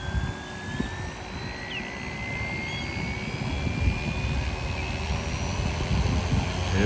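An RC scale UH-1 model helicopter spools up, a steady motor whine rising gradually in pitch over a low rumbling rotor wash that grows slightly louder, close by with no talking.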